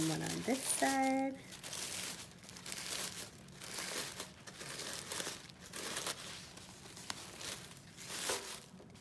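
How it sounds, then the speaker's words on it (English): Tissue paper crinkles and rustles softly in repeated close handling as layers are pulled up and scrunched toward the middle of a giant paper flower, a faint continuous crackle with a brief tonal squeak near the start. "I'm going to pull up just one layer of tissue paper at a time, kind of crumpling it up towards the middle"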